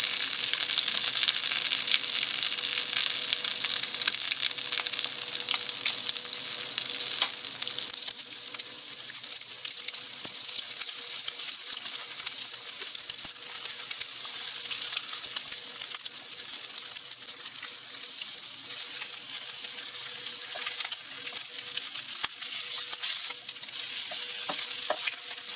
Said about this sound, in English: We want to sauté the surface crispy, so the heat is a little higher than usual.